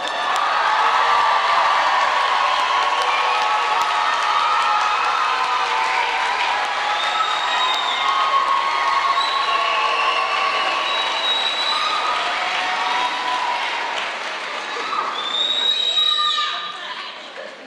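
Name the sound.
graduation crowd cheering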